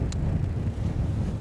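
Headwind buffets the microphone during a bicycle tour in South Korea, a continuous, loud low rumble of wind noise with no break across the moment.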